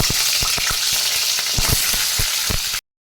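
Pointed gourd sizzles loudly in hot oil, with scattered light clicks of stirring throughout.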